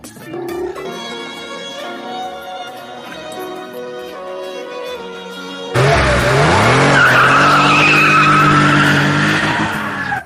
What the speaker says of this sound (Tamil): பிரபு வண்டி எடுப்பா